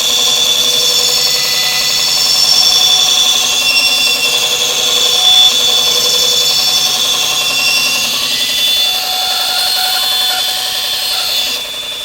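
A Sorby ProEdge sharpening machine runs steadily with a high whining hum and grinding hiss, loud and continuous with no talk, easing slightly near the end.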